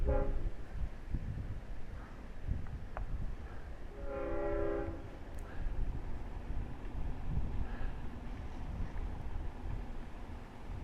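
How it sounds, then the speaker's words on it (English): A Long Island Rail Road passenger train rumbles steadily at a distance approaching Westhampton station, its horn sounding a few times in two-tone blasts as it draws nearer. "So I will let the train do the talking from this point on."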